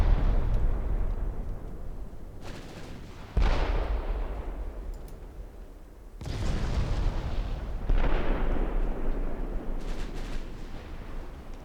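Naval warship gunfire and shell impacts in the Ultimate Admirals: Dreadnoughts game, heavy booming blasts hitting at intervals with long rumbling decays, loud and continuous without talk.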